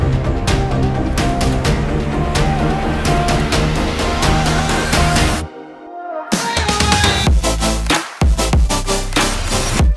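Future bass buildup produced in FL Studio, dense layered synths, drums and risers playing loud and continuous, with a sudden near-silent dropout around the middle before the full mix slams back in with punchy hits.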